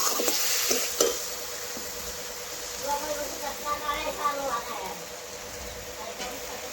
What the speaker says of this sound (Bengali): এখন ভালোভাবে নাড়াচাড়া করে বেশ কিছুক্ষণ ধরে আমি একটু রান্না করে নেব